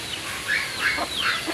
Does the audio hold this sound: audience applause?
no